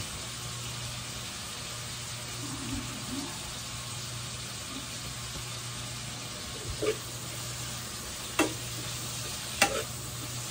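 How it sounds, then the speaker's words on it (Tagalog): Food sautés in a pan with a soft continuous sizzle, punctuated by a few sharp scraping clicks of a utensil stirring toward the end. "Gisa-gisa"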